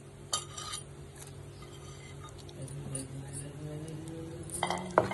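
Almonds and cashews roasting and being stirred in a hot pan for sweet semiya payasam, with faint, sparse clinks of a utensil against metal. A voice talks quietly over the low kitchen background.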